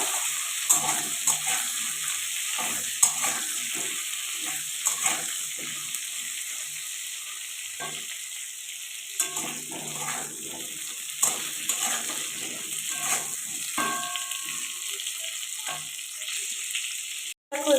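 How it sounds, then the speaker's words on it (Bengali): Pointed gourd pieces fry in hot oil, giving a steady, fairly soft sizzle with scattered crackles and occasional clinks as they are turned, close by and with no talking. "এবার আমি ওই তেলের মধ্যে পটলগুলোকে দিয়ে দিয়েছি পটলগুলোকে এখন ভাজা করে নেব"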